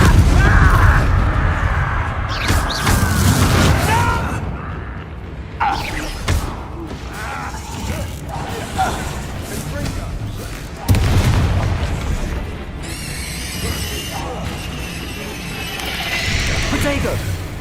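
Confringo blasting curse explosions in the Hogwarts Legacy video game, heavy booming blasts and crackling magical bursts repeating through a loud combat mix, with low rumbling impacts and shimmering effects.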